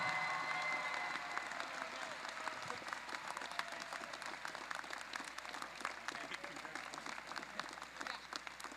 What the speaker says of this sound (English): one more round of applause for all these mentors